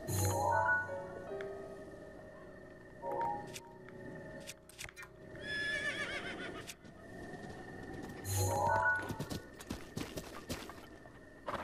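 Horse hooves clip-clopping in Zelda: Breath of the Wild, rhythmic game footsteps with bursts of other game sounds and tones, moderately loud and without talk.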